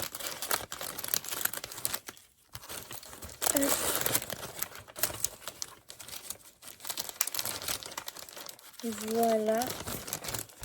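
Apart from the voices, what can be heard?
paper crumpling and rustling while tidying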